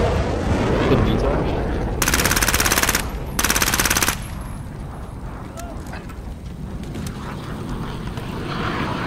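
Automatic gunfire in Call of Duty: Modern Warfare, two loud sustained machine-gun bursts of rapid rattling shots close up, followed by a noisy battle bed with scattered further shots and game sounds.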